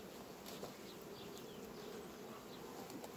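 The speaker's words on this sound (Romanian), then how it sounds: "Albina acum a venit frumos aici la plasă să ia sirop" Honeybees buzz faintly and steadily around a hive's syrup feeder mesh, a continuous soft hum with no voices.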